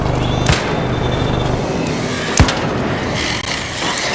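Gunfire in the video game ARC Raiders: two sharp, loud shots about two seconds apart rise above a dense, steady background of game noise, followed by a weaker crack near the end.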